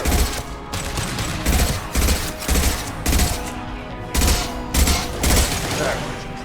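Gunfire in the video game Mass Effect 2 rattles out in loud rhythmic bursts, roughly eight heavy volleys over several seconds, with voices faintly present beneath the shooting.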